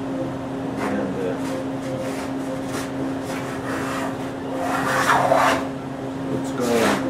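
A 3/8-inch round molding plane shaves wood in repeated rasping strokes, each a brief scraping rush, with a steady hum beneath and more forceful strokes toward the end.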